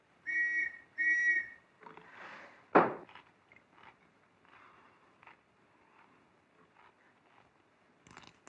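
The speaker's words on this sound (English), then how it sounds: "The whistle that was blowing just now." In a 1934 Hitchcock film scene, two short, clear whistle blasts sound close together at the start, followed by faint footsteps, knocks and rustling in a quiet room.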